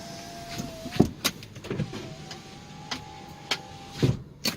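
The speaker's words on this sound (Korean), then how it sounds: "운전자가 뒤쪽 창문, 앞쪽 창문 정상적으로 작동합니다" Power windows on a 2009 Hyundai Grandeur TG sedan with about 140,000 km, a steady electric motor whine running through several window cycles, punctuated by sharp thuds as each glass stops, close and loud in a quiet cabin.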